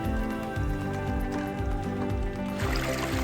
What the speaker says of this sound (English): So we load the material in the classifier on the top and swoosh it around.